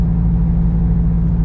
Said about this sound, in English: It's like stuck between gears, and the engine goes to like a deactivation, I think.